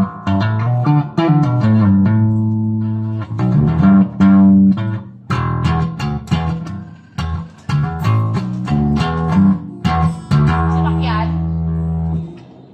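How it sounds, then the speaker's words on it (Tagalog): Electric guitar played through the neck pickup with soft picking, a run of clear, warm plucked notes and ringing chords in varied rhythm, close and fairly loud, with no talk over it. "Ito po yung tunog ng neck pickup."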